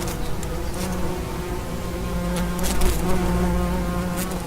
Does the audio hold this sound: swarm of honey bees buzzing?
yes